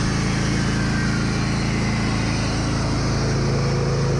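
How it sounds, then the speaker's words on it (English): A Wood-Mizer LT15 band sawmill runs steadily while sawing boards from an oak log, its engine drone and blade whine forming a loud, unbroken hum with no pauses and no voices. "So we start cutting boards"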